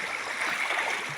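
River water flows steadily in a clear, shallow stream over rocks at a picnic spot, a close, even rushing and gurgling with no voices.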